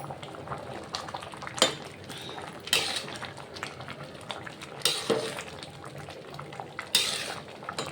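A pot of bagara rice cooks on the stove, its quiet simmer broken by a few sharp clinks and scrapes of a utensil against metal.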